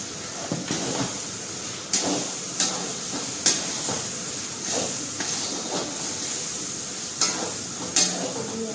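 A tomato mixture for pav bhaji cooks in a pan with salt, sugar and coriander-cumin powder stirred in, giving a soft constant sizzle with periodic scraping and tapping strokes of a spoon, fairly quiet.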